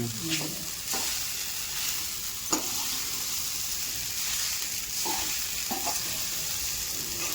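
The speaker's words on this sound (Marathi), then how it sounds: "चांगलं फ्राय करून घ्यायचं त्याला" Soaked sabudana and bhagar cutlets fry in hot oil with a steady sizzling hiss, joined by occasional spatula scrapes and stirring clinks in a home kitchen, close and continuous without speech.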